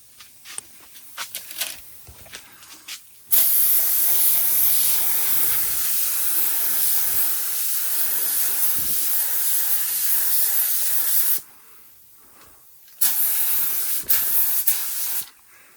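Aerosol paint hisses onto car headlights and taillights in long, loud, close bursts, one sustained spray lasting several seconds, a pause, then shorter sprays, with faint handling noises before the first burst.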